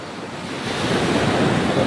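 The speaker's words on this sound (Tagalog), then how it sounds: "Ang lakas ng alon." Powerful ocean waves crash and roar, the surge swelling louder after the first second, with wind rushing across the microphone.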